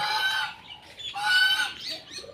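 Domestic geese honk loudly nearby in two drawn-out bursts of harsh, nasal calls.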